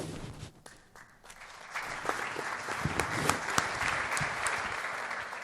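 Sustained audience applause at a rare disease multi-stakeholder symposium, starting softer and swelling into steady, dense clapping from a large room that continues throughout.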